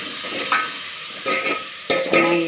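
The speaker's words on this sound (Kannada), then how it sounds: "ಚೆನ್ನಾಗಿ ಈ ಥರ ಎಲ್ಲ ತಿರುಗಿಸ್ಕೊಂಡು ಫ್ರೈ ಮಾಡಬೇಕು. ಕೊಬ್ಬರಿ ಎಲ್ಲ ಹುರಿಬೇಕು" Coconut paste being stirred and fried in a pan for fish sambar, with soft sizzling under a few scraping strokes of a spoon at close range, no talking.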